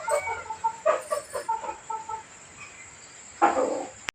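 Farm chickens clucking nearby in a quiet setting, a run of short rhythmic clucks followed by a pause, then a louder burst of squawking calls.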